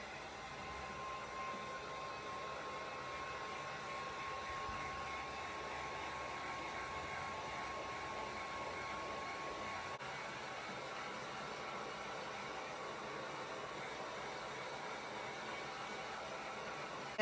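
A hair dryer blows steadily on a first coat of paint on a thrift-store piece, a constant airy whoosh running uninterrupted at moderate level.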